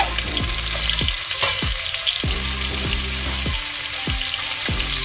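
Chopped onion frying in a hot pan, a steady loud sizzle throughout with a few soft stirring knocks.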